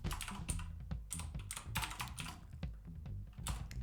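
Fast typing on a computer keyboard while building an HTML table, a steady clatter of close keystrokes with occasional heavier key hits and no speech.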